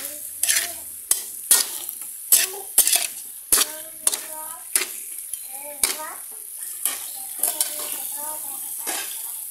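Chicken and pineapple sizzle in a frying pan while a utensil stirs and scrapes against the metal in repeated sharp strokes. Steady frying hiss sits underneath, with a few faint voices in the background.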